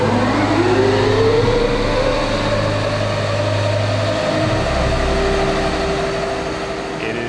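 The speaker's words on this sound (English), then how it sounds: "It is exciting to hear one of these engines fire up." A large power generator engine at Hudson Yards turning over and running up, its rising whine climbing steadily over a loud, continuous low rumble.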